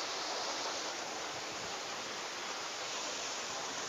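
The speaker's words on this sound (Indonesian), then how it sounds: "ini air terjunnya" Steady, dense roar of a waterfall pouring at night, a broad even rush of falling water that fills the scene without break from start to finish.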